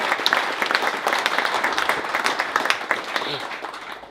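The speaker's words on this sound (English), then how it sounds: "Let's give them a round of applause." An outdoor audience at an agricultural research field day welcome gives a round of applause: steady, fairly loud crowd clapping with a voice talking over it.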